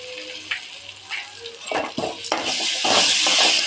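Onions with tomato sautéing in a pan with ginger and garlic added for a fish curry, steady close sizzling with spoon scrapes and clinks against the pan, growing louder toward the end.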